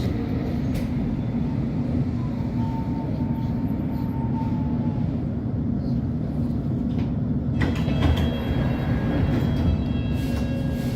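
Inside a London Underground Metropolitan line S8 stock train, a constant low rumbling roar of the running carriage persists, with a brief rattle toward the end.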